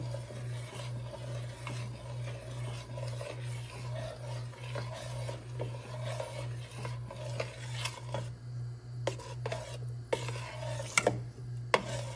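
Heavy cream is stirred into pumpkin soup in a pot, with soft rhythmic scraping and swishing over a steady low hum, followed by a few sharper clinks of a utensil against the pot near the end.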